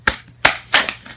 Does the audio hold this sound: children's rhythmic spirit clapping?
no